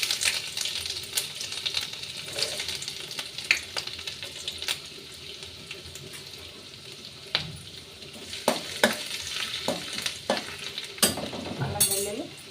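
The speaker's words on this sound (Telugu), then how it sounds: "ఫస్ట్ అల్లం వెల్లుల్లి వేసుకుందాం." Ginger and garlic fry in a pan for restaurant-style chilli chicken, giving a continuous close sizzle broken by repeated sharp scrapes and clacks of a stirring spoon, with no talking.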